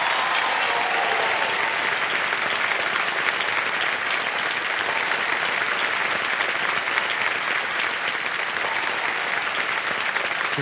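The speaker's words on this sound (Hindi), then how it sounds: "जोरदार तालियां" Loud, dense studio audience applause fills the Kaun Banega Crorepati set, a steady wall of clapping sustained without a break for about ten seconds as a National Award–winning actress is welcomed.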